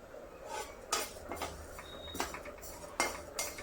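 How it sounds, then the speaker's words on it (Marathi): Urad dal roasting in a hot kadai, with a metal spoon stirring and scraping against the pan in irregular clinks and taps, a few sharper knocks standing out over a soft continuous rustle. "कढई गरम केलेली आहे, त्याच्यामध्ये उडदाची डाळ टाकूयात"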